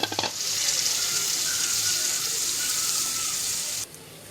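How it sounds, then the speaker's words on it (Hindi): Jhunka stirred in a pan over a low flame gives a continuous soft sizzle and scraping that runs steadily, then stops abruptly near the end. "ये डालने का और बारीक आंच पे हिलाते रहने का, हिलाते रहने का।"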